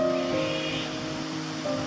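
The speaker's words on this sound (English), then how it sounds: "the disturbance in the water from the waterfall" Waterfall splashing into a pond near a bridge at a Sydney garden, a steady broadband rush of falling water with surf-like wash throughout, fairly close and continuous.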